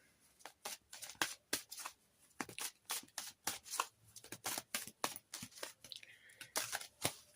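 Oracle cards shuffled by hand in quick, crisp riffling bursts, close up and fairly quiet, repeating steadily with short gaps and no talking.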